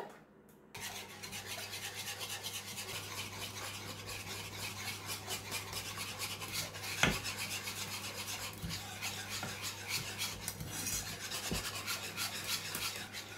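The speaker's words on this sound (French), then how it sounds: "On va venir bien mélanger jusqu'à qu'on obtient une crème épaisse." Steady scraping and rubbing of a utensil stirring thick lemon cream of eggs and sugar in a saucepan, continuous and close, with occasional light clinks against the pan, no talking.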